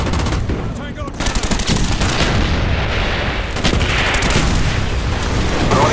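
An artillery strike in Call of Duty Black Ops multiplayer on PC, dense loud gunfire and booming impacts rattling on continuously, with voices mixed into the din.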